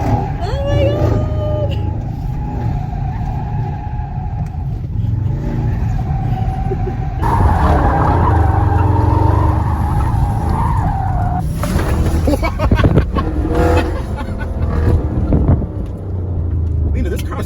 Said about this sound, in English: Right in front, dynamic. Burnout.